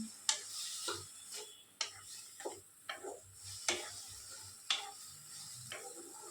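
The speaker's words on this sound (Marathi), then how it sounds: "गवारी आपण भाजून घेऊया पहिले, भाजून घेऊया बिना तेल घालता" A pan of cluster beans (guar) dry-roasting without oil, with intermittent scraping and clinking of a stirring spatula against the pan over a faint, low sizzle, close and fairly quiet.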